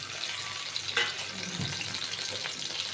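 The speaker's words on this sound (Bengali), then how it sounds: "তো এই যে এখানে আমি দিয়ে দিব পেঁয়াজ" Onion and garlic frying in a little oil in a very hot wok, giving a faint, steady sizzling hiss throughout with a soft clatter near the start.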